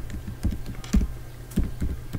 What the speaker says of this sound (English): press that backspace key on your keyboard and then you rename it